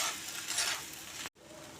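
Chowmein being stirred in a frying pan, a brief close hiss and scrape of sizzling noodles that cuts off sharply for an instant, then a quieter sizzle resumes; no one speaks.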